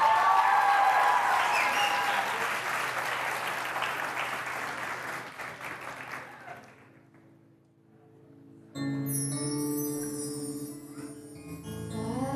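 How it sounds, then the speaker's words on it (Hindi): A TV studio audience applauds to welcome a contestant on a Pakistani singing competition finale, sustained clapping that fades down over several seconds before music takes over. "बहुत ज़्यादा और बहुत सारी तालियों में हम वेलकम करेंगे हमारी जो पहली कंटेस्टेंट फिज़ा हुसैन को।"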